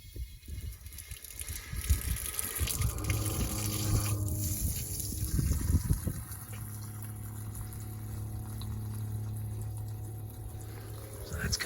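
Water runs from an RV tap fed by the fresh water tank, with the pump running, a steady gushing flow with a low pump hum underneath, moderately quiet.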